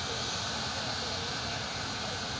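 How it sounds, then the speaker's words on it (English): Jet engine running during a loudness test, a steady, dense roar and hiss filling the whole clip without letup, heard from close range. "I'm standing in front of a jet engine. We're testing out how loud it is."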